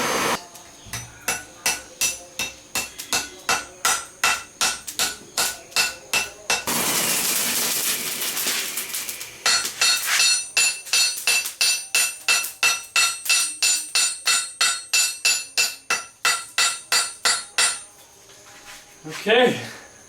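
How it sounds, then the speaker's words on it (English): Rapid, ringing hammer blows on hot steel being forge welded repeat in steady bursts, broken by a loud roaring rush before the pounding resumes. "I'm going to hit it with a hammer just to kind of forge weld it into it."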